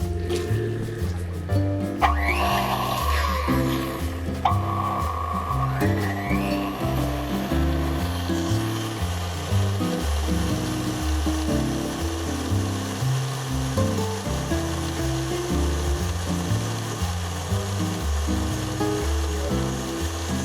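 An electric mixer whisks egg whites while hot sugar syrup at 110 to 120 degrees Celsius is poured in for eclair filling, giving a steady, close motor whir with a rhythmic, churning low drone that runs unbroken throughout.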